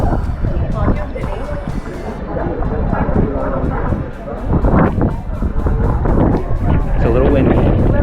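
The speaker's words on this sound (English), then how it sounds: "It's a little windy." Strong winter wind in Iceland buffets the microphone in loud, low gusts that rise and dip, roaring almost continuously.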